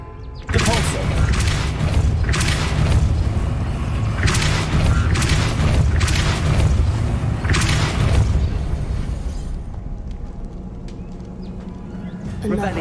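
Repulso spell in Hogwarts Legacy, a series of heavy booming magical blasts and thuds repeating in quick succession, loud and close over a rumbling low ambience.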